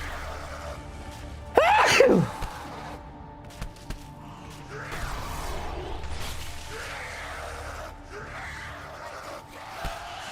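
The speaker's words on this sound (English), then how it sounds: "I hope you enjoyed my sneezes" A single loud sneeze bursts out close to the microphone early on, followed by quieter game sounds and faint background noise.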